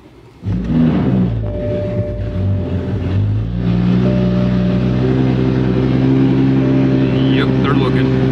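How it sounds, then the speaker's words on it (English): A Toyota Supra fitted with a Tomei exhaust starts up loudly beside a playground, then settles into a deep, rumbling idle with occasional revs. The sound is steady and close. "I need to start this car up."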